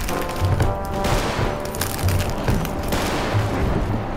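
Repeated booming artillery cannon blasts in a video game set in World War II roll out in a steady barrage with a constant rumble of battle underneath.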